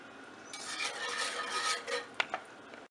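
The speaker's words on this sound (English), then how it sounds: "instead of watching me just stir a pot for a while" A spoon scrapes and swirls through milk gravy in a pot on the stove, a steady close rasping stir that ends with a couple of sharper clinks against the pot.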